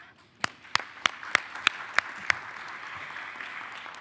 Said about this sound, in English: A clap for the panel.